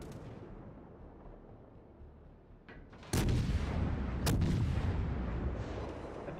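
Naval gunfire from warship guns in World of Warships, with a quiet rumbling background, two sharp loud booming cannon blasts about a second apart, and long rolling echoes after them.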